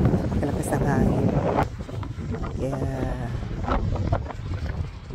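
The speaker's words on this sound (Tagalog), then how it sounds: "ang buko ililipad ng hangin kasi napakalakas ng hangin" Strong gusts of wind buffet the microphone throughout at a rock formation in New South Wales, Australia, with a person talking over the roaring noise.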